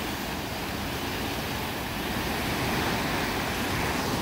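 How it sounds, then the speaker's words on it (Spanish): Heavy waterfall near Washington DC, with water falling strongly: a dense, steady roar of crashing water that fills the whole clip at constant loudness, with no voices. "Y acá se observa mejor como unas cataratas cuando cae el agua allá."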